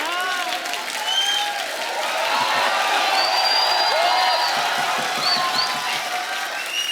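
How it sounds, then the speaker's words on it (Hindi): Studio audience at The Kapil Sharma Show applauding and cheering, a dense sustained roar of clapping with scattered whoops, loud and continuous from start to finish. "तालियां देखो।"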